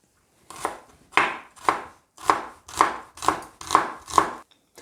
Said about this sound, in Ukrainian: Першим кроком мілко нарізаємо цибулю.